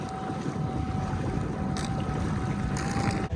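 A small Easy Raft dinghy driven by a Temo outboard motor heads into shore at Syracuse, with a steady low motor drone, wind buffeting the microphone and water washing around the hull.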